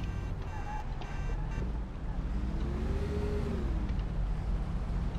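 Car engine in the video game Mafia, a low steady rumble with a rising and falling rev sweep midway, continuous and close over a faint background hum.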